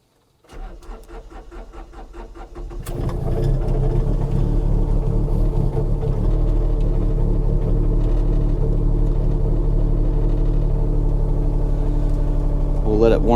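A Takeuchi TB235-2 mini excavator's diesel engine cranks with rapid clattering pulses, then catches and settles into a loud, steady rumbling idle that holds unchanged to the end.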